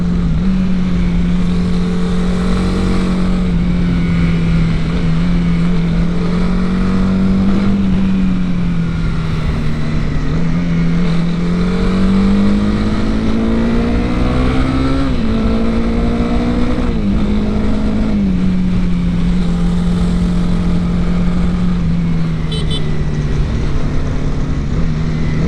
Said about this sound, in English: And I really love the exhaust sound. This bike comes with a new exhaust system.